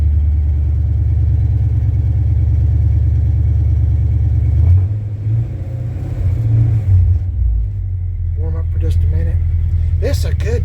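A 1966 Chevy C10 pickup engine idles close by with a steady, deep rumble, the tone shifting slightly partway through as it warms up.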